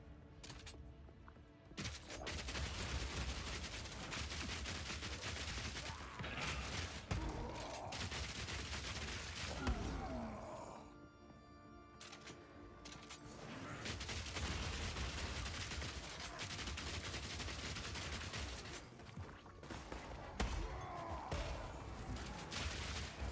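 Repeated corpse explosions from a Warcry build in Path of Exile 2, heard as dense overlapping bursts and crashes that keep up through most of the stretch, loud and continuous with little pause under the game's combat noise.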